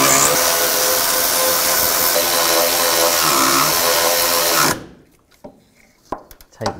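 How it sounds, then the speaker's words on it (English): A power tool drives home the transmission mount bolts on a 2010-2017 Chevrolet Equinox, a loud continuous whirring grind for about four and a half seconds that cuts off abruptly, followed by a few quiet clanks. "Now we'll tighten these three bolts down"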